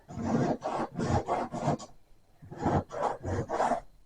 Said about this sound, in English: It does need a little bit of sandpaper in the job.